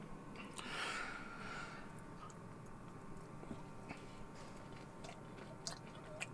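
Crunchy homemade cookies being chewed close up after cooling, giving soft repeated crunches and bites with small ticks over a quiet background, no talking.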